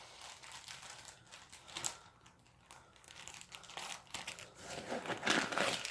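Crinkly plastic garbage left over from an opened citronella bracelet, handled at close range inside a bag, giving a steady run of crisp crackling and rustling with small louder crunches toward the end.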